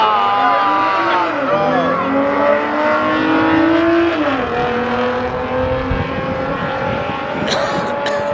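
V6 Mopar and Mustang cars racing, with loud sustained engine drones that shift pitch as the cars accelerate and change gear, heard close throughout.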